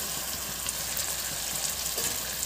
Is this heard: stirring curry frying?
yes